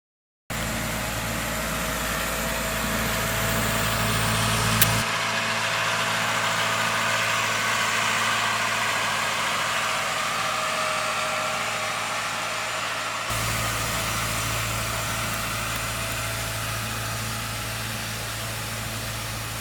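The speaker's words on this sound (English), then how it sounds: "here in Miami they come by with a scraper tractor every morning, make the beach look prettier for the tourists" Steady engine drone from a scraper tractor grooming the sand on a Miami beach in the morning, continuous and moderately close, with a low rumble that drops out briefly mid-clip and returns; no talking.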